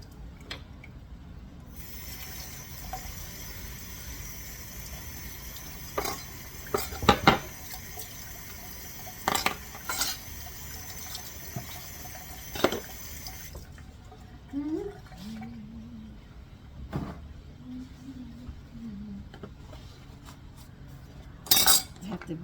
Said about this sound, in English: Do clean your cutting board.